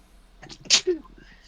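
A single short, sharp sneeze, close and abrupt, over a quiet background.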